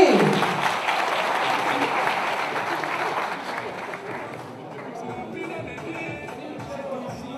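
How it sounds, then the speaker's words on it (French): An audience in a hall at a Gabonese local and legislative election event breaks into applause. The clapping is loud at first and thins out toward the end, with voices talking through it. "On applaudit."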